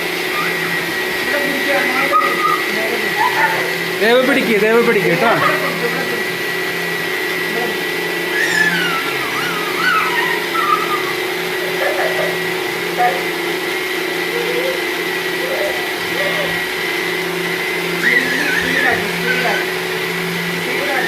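Mixer grinder whirring steadily as it blends a Sharjah shake in a home kitchen, a continuous motor drone running throughout with a person talking over it.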